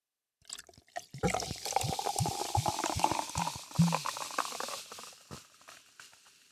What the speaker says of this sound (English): Let's get this pour on microphone.